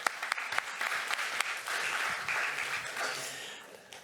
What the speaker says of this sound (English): I would give him an applause